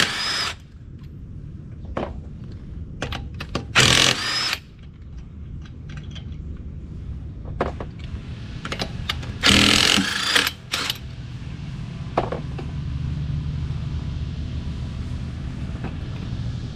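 A power tool removes a car wheel in short loud bursts of whirring and rattling, separated by quieter gaps with low rumbling background noise.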